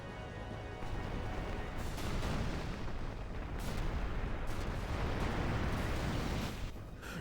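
Explosions in the video game Final Fantasy X, with a building blowing up: a dense, continuous roar of booms and rumbling blasts that stays loud throughout and briefly thins near the end.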